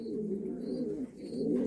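A breeding pigeon from a Romanian fancier's loft coos in low, soft, rolling phrases, steady and close, with faint higher bird calls in the background.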